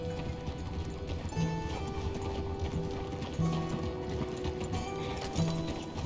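Horse hooves clip-clop in Red Dead Redemption 2 as a rider steers the animal along a road, a steady rhythmic trot sitting under faint game ambience and low mechanical rattling.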